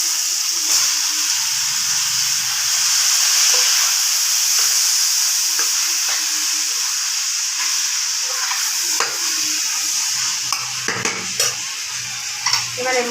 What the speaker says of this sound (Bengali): বাঁধাকপি আর আলু সেদ্ধ করে নিয়েছি বন্ধুরা। এবার কড়াইয়ের মধ্যে দিয়ে দেবো।